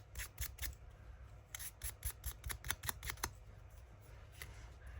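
Junk journal paper ephemera is sanded in a series of short rasping strokes, close and fairly quiet, in uneven bursts with pauses and no speech.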